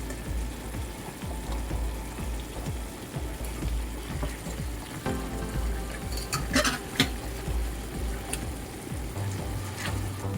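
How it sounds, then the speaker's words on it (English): Pork ribs cooked in beer fry in a pan while being stirred, a busy crackling sizzle with repeated scraping and clatter of the utensil, close up, with nobody speaking. "stir them again. Just so they get a really nice color."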